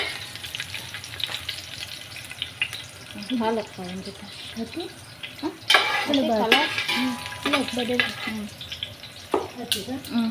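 Curry leaves, cinnamon, bay leaf and cloves frying in oil for a Sri Lankan-style crab curry, a steady low sizzle with spatula stirring and scraping in the pan, under a voice talking throughout.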